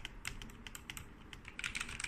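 Quick, even typing on a Tecware Phantom RGB TKL mechanical keyboard with red switches, a close, crisp run of key clacks with no voices.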